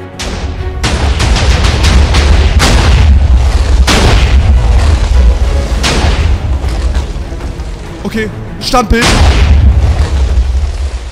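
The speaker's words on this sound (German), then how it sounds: "Es explodiert immer noch alles." Massive chain of TNT blocks detonating in Minecraft, a relentless barrage of deep booming explosions with sharp cracking bursts layered over a constant low rumble, while someone speaks briefly near the end.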